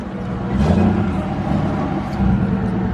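A Nissan Skyline with an RB25DET engine drives along, its low engine rumble rising and falling steadily and heard close from inside the car without talking.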